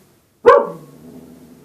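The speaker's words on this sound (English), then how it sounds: "little dog's getting upset as well as me" A small dog gives a single sharp, fairly loud bark at close range, followed by a low fading growl or whine.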